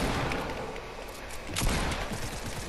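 Gunfire rattles through a video game firefight, a faint ongoing clatter of shots with one sharper, louder crack near the middle, distant and low in level.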